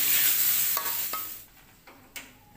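A spatula stirs salted squid with green chilies frying in a pan in a home kitchen, with a few sharp scraping strokes over a hissing sizzle that fades, close and alone.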